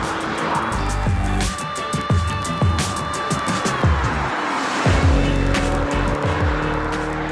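A Mini Cooper S 3-door in sport mode revs loudly and steadily with engine drone rising through gears, close and dominant throughout with overlapping tonal whine.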